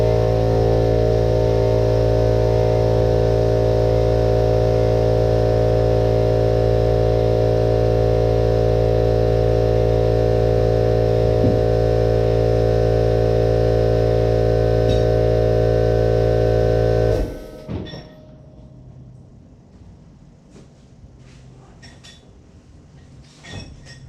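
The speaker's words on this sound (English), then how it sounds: "Apologize for the compressor." An air compressor running in a garage gives a loud, steady, low droning hum that cuts off abruptly near the end, leaving faint clinks and rustles behind.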